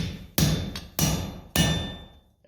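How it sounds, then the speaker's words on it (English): Hot steel being upset with a hammer at a blacksmith's forge during a museum hammer-in, three heavy ringing metallic blows about half a second apart, close and loud, each decaying before the next, with no talk. "hammering it out to gain more mass at the bottom of the piece of steel"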